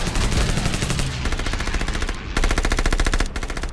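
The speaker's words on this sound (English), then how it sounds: "there's nothing scarier than the sound of passing bullets inches from your face" Dense machine gun fire in an audio drama scene, rapid sustained bursts with bullets whipping past close by, loud and continuous throughout with no talk.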